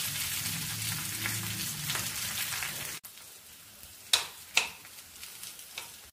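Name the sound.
food frying in a pan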